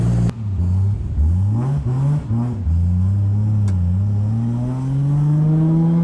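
A white 1985 Toyota Supra with a 2JZ engine revs up and down several times, then settles into a steady rising drone as it accelerates, loud and close from inside the car.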